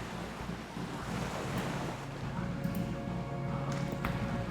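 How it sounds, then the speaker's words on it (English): Waves lapping and swaying a skiff at a dock in the video game Disco Elysium, a continuous washing surge with wind-like hiss, steady and moderately loud, no talk. "The skiff is swaying on the waves by the dock."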